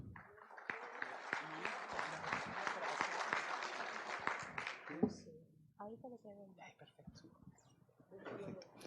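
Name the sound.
audience applause welcoming a speaker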